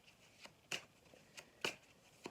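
Tarot cards being shuffled for a card reading, a few quiet, crisp riffling bursts at irregular intervals, close and alone.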